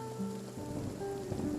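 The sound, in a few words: rain in the video game Mortal Online 2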